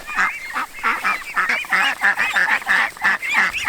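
Mixed flock of thirteen ducks, two adult mothers and eleven ducklings, calling together in a garden enclosure, a dense run of loud overlapping honking quacks and calls repeating steadily throughout.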